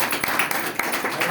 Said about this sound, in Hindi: एक बार और तालियां हो जाएगी।